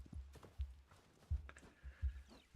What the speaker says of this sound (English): Cheeky horse.